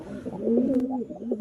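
A caged pigeon gives a soft, close throaty coo, one rolling low call lasting about a second.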